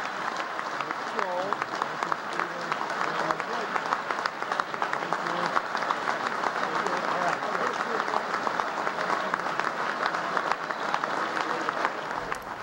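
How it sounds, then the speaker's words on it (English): Steady applause fills a large banquet hall at the White House Correspondents' Dinner, a continuous roll of clapping from the seated crowd with faint voices mixed in underneath. "So applause, applause, applause, applause, applause."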